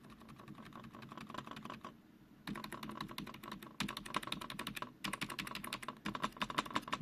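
Key presses on a Defender Balance LQ keyboard that rocks on an uneven desk: a steady run of close, loud clicking keystrokes, pausing briefly twice, with no talk.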